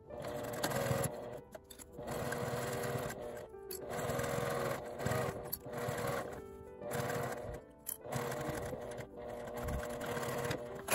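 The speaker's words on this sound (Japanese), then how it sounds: "縫い目の下を端から端まで縫います" A sewing machine stitching a zipper seam on a fabric bag, running in a steady rapid whir in bursts separated by short pauses, close and loud with no talking.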